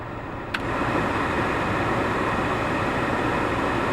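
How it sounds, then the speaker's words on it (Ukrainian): A steady broadband whoosh of the cabin blower fan running on its lowest setting inside a VW Touran with the engine on starts after a short click and runs on evenly. "на одиниці при увімкненому двигуні чути вентилятор"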